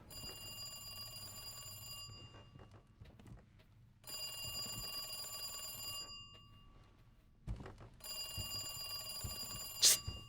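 An old-style bell telephone rings in Resident Evil 2 Remake, three long trilling bursts separated by pauses, close and clear, with faint footsteps and a sharp click at the end.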